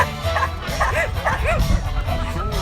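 A Belgian Malinois at an outdoor agility show gives a string of yipping barks and whines during its run, steady over crowd noise, with a commentator talking throughout.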